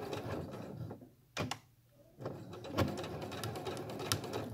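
A sewing machine stitching a backstitch on fabric wipes, with short mechanical whirring bursts of a few stitches separated by brief pauses.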